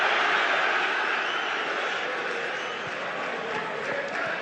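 Football stadium crowd giving sarcastic applause after a decision, a broad sustained clapping roar from far away that slowly fades.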